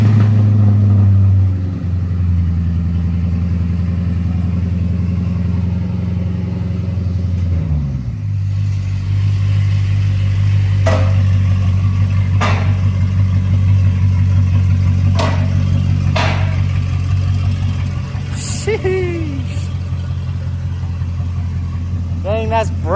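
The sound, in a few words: Mercedes SL55 AMG engine cold start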